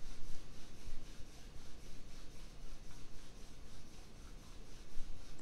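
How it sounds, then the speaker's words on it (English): Palms rub together in front of the chest to build heat, a soft rhythmic swishing friction that repeats in close, even strokes with no voices. "bring your palms together in front of your chest and begin to rub them together, creating heat through friction."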